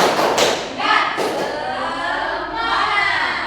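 An elementary school class stands and claps together in a rhythmic spirit chant, several loud group claps in bursts with voices shouting along, close and energetic in a classroom.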